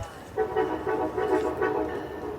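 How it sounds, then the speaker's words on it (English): An Avelia Liberty Acela train approaching New Carrollton station, heard as a steady rumbling rail drone with a repeated tonal horn-like pulsing, mid-distance on the platform. "A train is approaching."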